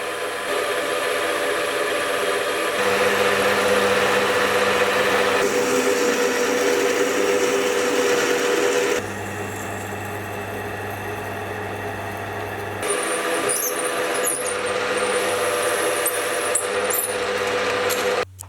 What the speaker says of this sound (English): I'll then turn down a flanged bushing.